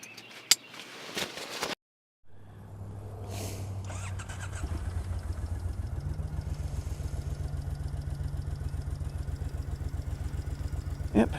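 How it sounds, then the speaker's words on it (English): A loaded touring motorcycle at a campsite starts after brief handling noises, then settles into a steady, close, rhythmic idle that continues throughout. "With the bike loaded up once again, I started the engine and set off"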